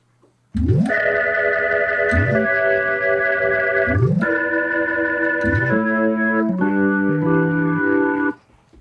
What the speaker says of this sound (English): So on the top, we have an organ programmed.